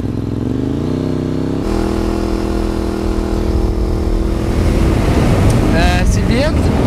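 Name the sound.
sport motorcycle engine while riding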